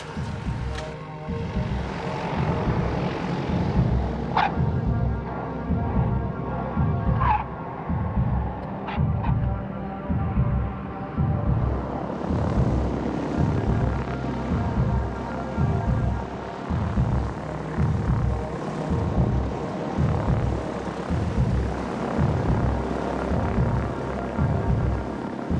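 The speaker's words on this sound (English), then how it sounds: "Plane's now stationary." A propeller plane taxies to a stop nearby, its engine drone pulsing in a steady, even rhythm for the whole stretch, with a few brief squeaks early on and no voices.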